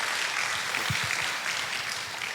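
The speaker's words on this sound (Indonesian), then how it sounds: "Tepuk tangan buat Tuhan Yesus." A church congregation applauds at a sermon, a dense, even wash of many hands clapping that fills the space at moderate distance, with no talk over it.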